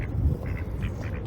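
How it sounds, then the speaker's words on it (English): Several ducks quack repeatedly close by near a narrowboat, short nasal calls in an irregular rhythm over low background rumble, with no speech. "Wonder where that white duck is."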